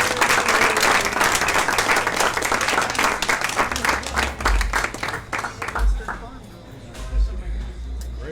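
Audience applause and clapping fill the room after an orchid presentation, loud and dense at first, then thinning out, with low thumps and murmurs underneath toward the end.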